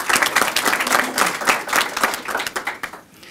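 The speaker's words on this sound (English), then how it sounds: "Can we give him a round of applause?" A county government audience gives a round of applause, dense clapping that swells and then thins into scattered final claps before fading out.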